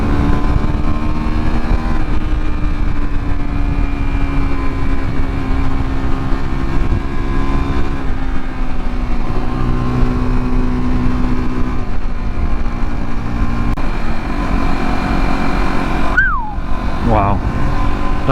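Motorcycle cruising along a road with a steady, loud engine drone and wind rush heard from the rider's position, the pitch shifting slightly with speed, plus a brief high squeal near the end.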